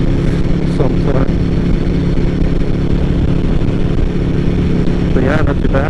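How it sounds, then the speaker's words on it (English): Aprilia RSV4 motorcycle riding at high speed, a loud, continuous engine and wind roar that stays steady throughout with no pauses. "It's actually pretty impressive to see how stable the bike is at a high speed."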